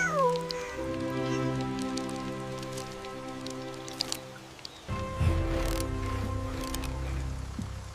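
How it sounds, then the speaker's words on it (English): A cat meows in a few close, clear calls, rising and falling in pitch, over a soft, steady patter like rain on a surface. "Meow!"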